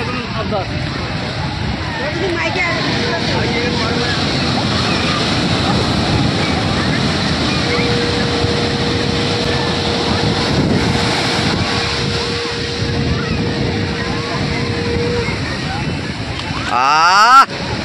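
Sea surf at Puri beach washes steadily around people bathing in the water, a continuous broad rush of waves and wind noise with voices faintly mixed in throughout.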